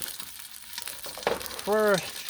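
Homemade ghee sizzles on a Blackstone griddle, a steady close hiss that swells near the end, where a brief voiced sound breaks in over it.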